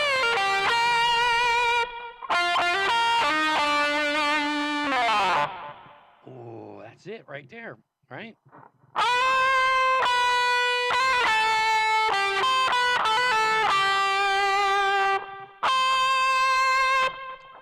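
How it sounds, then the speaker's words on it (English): Distorted electric guitar lead tone run through an analog delay and an old-style spring reverb, sustained melodic notes with echoing tails, a short break of choppy notes midway, and a brief spoken comment. "So I went with an analog delay and a spring reverb, the old spring reverb sound."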